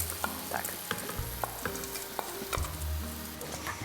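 Rice being stirred together with warmed pumpkin in a sizzling pan for pumpkin risotto, a steady close frying hiss with repeated scraping strokes of the spoon and no talking.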